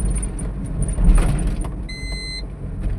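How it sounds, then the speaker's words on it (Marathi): A road sweeper vehicle cleans a city road late at night, its engine and brushes producing a steady low rumble with traffic-like noise. A brief high whine rises near the end, and no one speaks. "ही कशाची गाडी ही आहे बघा साफ करायची रोड साफ करत चालली"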